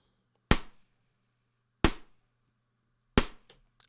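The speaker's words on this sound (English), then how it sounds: "Sounds like a side stick." Three sharp side-stick clicks on a snare from a Creative Snares sample set for Slate Trigger 2.0, evenly spaced about 1.3 seconds apart, dry and close with quick decay into silence.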